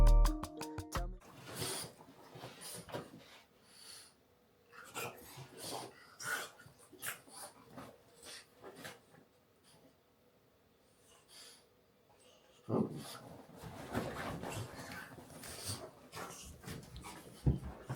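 A pet dog at home sniffs, snorts and breathes in bursts of close, rustly snuffling, with quieter stretches between; a brief loud clatter opens the scene and the snorting picks up again near the end.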